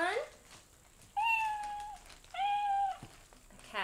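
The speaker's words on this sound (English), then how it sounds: "A cat meowing." A cat toy, likely a Mickey or Minnie Mouse toy, gives two clear, drawn-out meows close by, each lasting under a second, with brief fainter sounds before and after.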